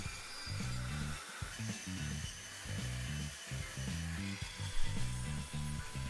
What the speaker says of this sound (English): cut it out carefully on the bandsaw